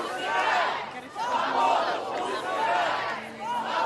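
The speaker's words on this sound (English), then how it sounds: "much of the crowd also reacted angrily" An angry crowd gathered outside a courthouse, a dense mass of many voices shouting and jeering together in waves, loud and continuous with swelling surges and no single voice standing out.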